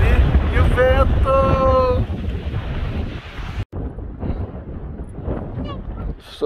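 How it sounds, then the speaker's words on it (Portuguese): Wind at Moraine Lake in Banff National Park, Canada, buffets the microphone with a steady roar, and a voice speaks over it briefly near the start. "E o vento!"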